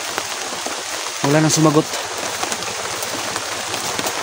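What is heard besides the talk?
rain falling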